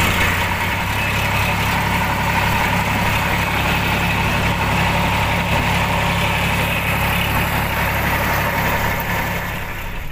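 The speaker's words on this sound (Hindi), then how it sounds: "अभी हम लोग ट्रैक्टर का सवारी कर रहे हैं।" Tractor engine running steadily during a ride on a forest road in Odisha, a loud continuous low diesel drone with a constant rumble and no breaks for the whole stretch.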